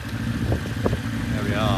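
A 1972 Kawasaki Z1 900cc motorcycle idles while warming up, a steady low engine drone close by, with someone speaking briefly over it.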